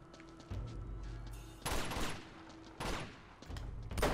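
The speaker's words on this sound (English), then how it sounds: "That machine gun is back" Machine gun fire in the video game Uncharted 2 comes in three loud rapid bursts separated by brief pauses, with low rumbling game ambience between them.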